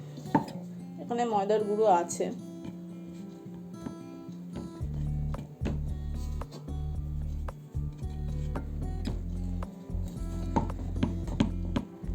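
Small maida dough balls rolled out one at a time with a rolling pin to make thin khaja. Soft knocks and light clicks from the pin on the board repeat over a steady low hum, with a short voice early on.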